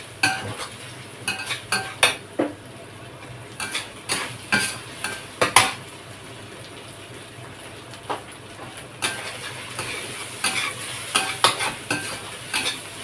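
Red chili and eggplant frying in a pan, a steady sizzle broken by repeated sharp scrapes and clinks of a utensil stirring against the metal, close and fairly loud.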